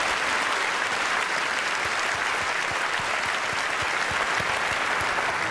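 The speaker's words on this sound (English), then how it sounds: "Huge round of applause." Applause from an audience at an awards ceremony for classroom teachers, a steady, dense wash of clapping from many hands that holds evenly throughout with no voices over it.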